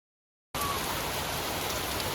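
Water from a garden hose streaming down a rain chain on a 1905 cottage, a steady dense splashing rush that starts abruptly and continues evenly, close and fairly loud.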